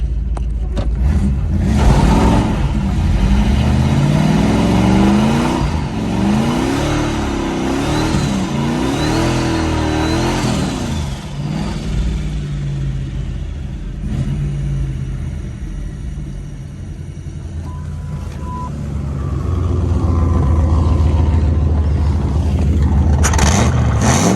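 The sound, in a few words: turbocharged 5.0 Ford Ranger doing a burnout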